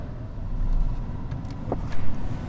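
A 2022 Mercedes EQS 580 electric sedan pulling away in drive, heard as a steady low road and cabin rumble with no engine note and a brief louder bump near the end, with no talking.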